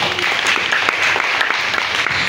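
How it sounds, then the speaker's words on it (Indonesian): A short burst of dense clapping from a group, brisk and steady, with no talking over it. "Tepuk tangan semua."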